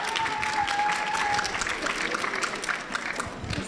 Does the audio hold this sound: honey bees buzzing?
no